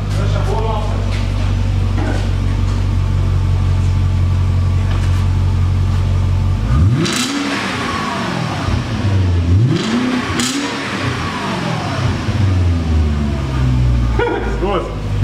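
Close, loud BMW E38 730i engine with a modified exhaust idles with a deep rumble, then is blipped into sharp revs that rise and fall twice. People talk over it.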